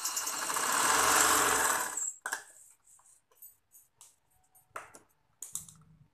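A sewing machine stitches the neck of a kameez with a close, loud whirring run for about two seconds, then stops. Small clicks and handling taps follow.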